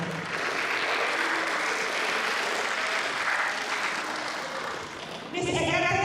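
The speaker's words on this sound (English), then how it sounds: "Give applause to them." A seminar audience claps in steady, dense applause for several seconds. It fades slightly before a voice starts speaking at the end.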